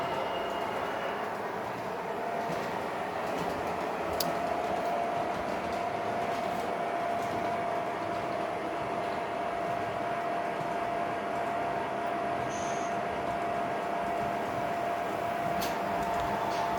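A train rumbles steadily along the track at a distance, a continuous low roar with a faint hum and occasional clicks, no voices.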